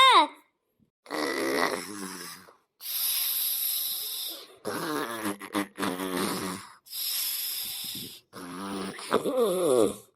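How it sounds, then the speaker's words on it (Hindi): Loud, rasping snores come in repeated bursts with short silent gaps between breaths, close by and harsh. "बाहर तक खर्राटे सुनाई दे रहे हैं मेरे बहू के"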